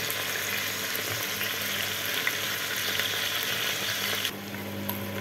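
Food browning in a pot before pressure cooking, a steady close sizzle and crackle of frying that runs unbroken and drops slightly in level near the end.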